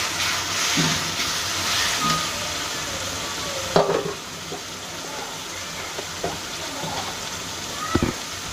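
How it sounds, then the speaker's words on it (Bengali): Whole spices, two bay leaves, green and black cardamom and peppercorns, crackle in hot oil for a chicken and potato curry, a continuous close sizzle with a few sharp pops and clinks of the spoon. "দিয়ে দিলাম দুটো তেজপাতা, দুটো সাদা এলাচ, কালো এলাচ, গোলমরিচ"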